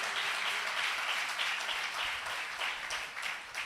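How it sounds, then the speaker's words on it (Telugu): A church congregation at Sunday worship bursts into applause, dense continuous clapping from many hands in a hall, steady and fairly loud throughout. "గట్టిగా ప్రభువుని ఒకసారి చప్పట్లు కొడుతూ"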